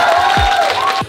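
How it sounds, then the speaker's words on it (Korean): A fan-meeting audience cheers and applauds loudly and close, a dense crowd roar with whoops and shouts running steadily through the moment. "박수!"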